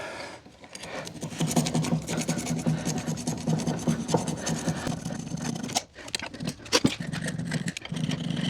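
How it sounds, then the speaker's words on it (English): Hand file rasping over an old engine part from a dropped, broken cement mixer engine, giving a steady close scraping texture with rhythmic strokes and a few brief pauses. "Let's do a little more filing."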